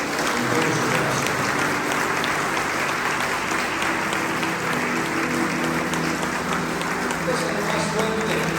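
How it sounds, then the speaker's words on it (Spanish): Church congregation applauding loudly and steadily during a Spanish-language worship service, dense continuous clapping from a large crowd with voices mixed in throughout. "Dale un aplauso a Jesús en todo su corazón."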